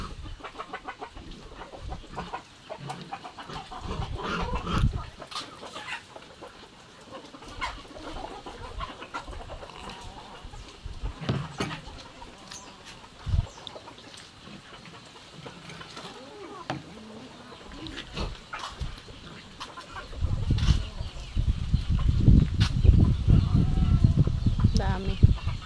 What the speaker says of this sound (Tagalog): Ngayon po ay magpapakain na uli si Tilat ng mga alagang manok.